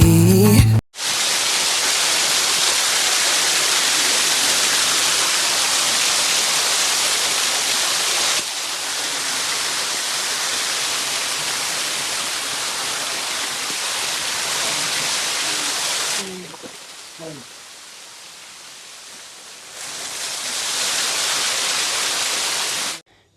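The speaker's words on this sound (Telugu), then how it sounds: "ఇలా పైన గుడి టెంపుల్ మీద నుంచి మనకి వాటర్ ఫాల్ పడుతూ ఉంటుంది అనమాట." Water pouring down from above a temple as a waterfall, a loud, steady broadband rush that holds evenly for long stretches, briefly drops away, then returns at full strength.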